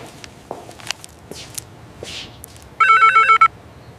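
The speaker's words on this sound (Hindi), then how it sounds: "ये किसको फोन मिला रही है?" A telephone rings with a short electronic trill of about half a second near the end, preceded by faint shuffling footsteps in a quiet indoor room.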